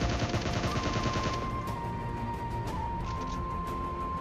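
Gunfire in the mobile battle royale game PUBG Mobile, a player knocking down an enemy near Pochinki: dense, continuous loud shooting over a steady game background, with no talk.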